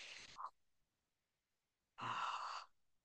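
A voice imitates Cheyne-Stokes breathing, with two breathy exhalation sounds separated by a silent pause like an apnea, demonstrating the cyclical pattern of a neurological patient's respiration.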